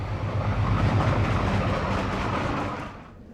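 A train headed by an Alco PA locomotive on the Oregon side of the Columbia River Gorge thunders past close by, with a low engine throb and rolling wheel noise that fade away near the end.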